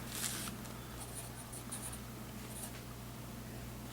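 Hand-writing zeros with a pen or pencil on paper, heard as a few soft, close scratchy strokes in short bursts over a quiet room hum.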